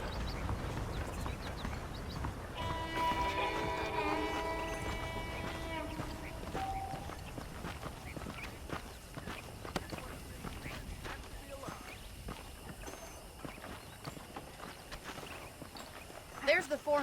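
Horse hooves clip-clopping in Red Dead Redemption, a steady walking rhythm of soft hoof beats running under talk, with a brief burst of bird calls early on.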